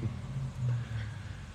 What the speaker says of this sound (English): just because you hear a car that sounds like a dirt bike